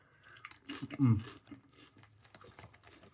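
Someone bites into crunchy Aldi Fiesta Barbacoa beef flavour tortilla chips made with rice flour and maize, giving a few close, dry crunches and chewing sounds at a quiet level, with a brief word spoken.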